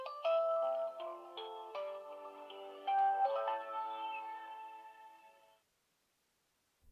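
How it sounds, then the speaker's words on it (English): Servo R26 phone playing its loud startup jingle, a bright melodic electronic tune of stacked tones in two phrases, ringing for about five seconds before cutting to silence. "After an obnoxiously loud startup sound"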